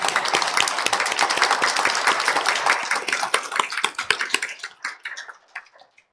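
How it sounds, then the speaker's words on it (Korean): A church congregation applauds at a Christmas worship service, a dense, steady clapping that fills the room for several seconds before thinning to a few scattered claps and fading out. "우리 하나님 앞에 영광의 박수 올려드리겠습니다."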